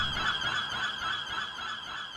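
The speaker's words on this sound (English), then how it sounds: "It would be funny to add an actual flock of seagulls." Honking, squawking bird calls like a flock of gulls, layered high into a dreamy indie pop track as a wobbly texture, sounding continuous and fairly loud without any talk.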